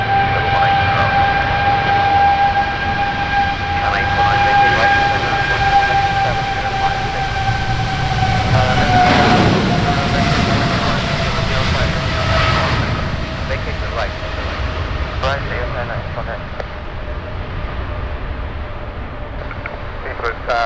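Engines of a retiring British Airways Boeing 777, registration G-ZZZB, on its final flight to scrap, a steady loud roar with whining tones that shift in pitch over twenty seconds, with radio chatter faintly underneath.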